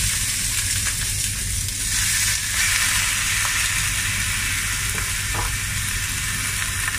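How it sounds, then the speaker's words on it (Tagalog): Beef shank hitting a hot pan, a loud, dense, continuous sizzle with crackling and faint stirring scrapes, close and unbroken. "Ilagay na natin yung ating karne."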